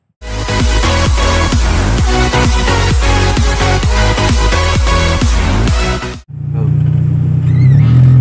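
A 1993 Honda Civic ESi LX with a PH15 engine and manual gearbox revs hard in a rapid series of close, loud throttle blips, then drops to a lower steady idle.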